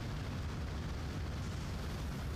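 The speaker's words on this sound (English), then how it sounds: "Big explosion. Boom." A deep, rumbling explosion from the prison-management game Prison Architect, a dense, sustained low roar that stays faint and uniform from start to finish, with no talking.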